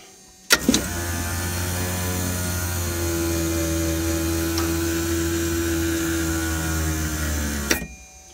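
Landing gear retracting on a Piper PA-30 Twin Comanche: an electric motor whines with a steady, even hum for about seven seconds, beginning and ending with a clunk.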